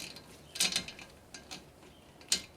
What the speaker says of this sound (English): This is where you take your 14mm wrench